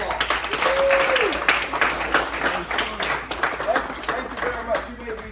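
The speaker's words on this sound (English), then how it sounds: "Give yourself a round of applause." An audience breaks into a sustained round of applause, dense clapping that swells early and then tapers off, with a few voices calling out over it.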